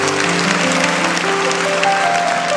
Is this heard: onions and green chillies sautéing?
no